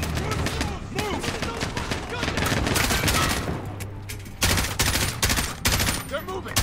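Machine gun fire in Call of Duty Modern Warfare, dense rapid bursts of automatic shots and other gunfire, loud and close, with battle chatter under the shooting.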